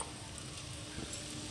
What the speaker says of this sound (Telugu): ఇదొక 5 నిమిషాలు ఈ మసాలాలో పన్నీర్ కూడా వేగాలి.